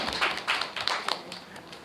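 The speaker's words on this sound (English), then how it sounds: "A round of applause, please." Light, brief applause at a debate between the Judiciary of Jamaica and the Ministry of Tourism, a handful of soft claps and taps fading out within a couple of seconds.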